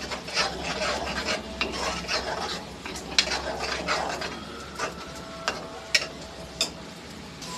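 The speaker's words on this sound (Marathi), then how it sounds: "आता तेल सुटेपर्यंत आपण भाजून घेऊया." Ground masala paste frying in oil for a prawn curry, stirred steadily with a spoon that scrapes and rasps against the pan, with soft sizzling and sharp clicks throughout.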